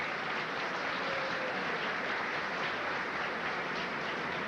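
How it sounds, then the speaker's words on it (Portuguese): A dense, steady wash of applause fills the space for Padre Vitor, a large crowd clapping continuously at an even level, with no pauses and no voices standing out. "Uma salva de palmas,"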